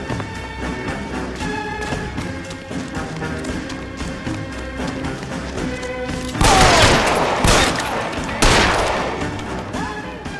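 Gunfire in L.A. Noire, two loud bursts of shots near the end that cut sharply over a tense music bed and faint voices, the first burst lasting about a second and the second shorter.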